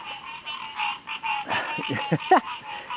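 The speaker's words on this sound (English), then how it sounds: "The frogs are going at it right now." Frogs croak loudly at night, a dense chorus of repeated rasping calls overlapping in quick bursts over a steady high insect-like drone.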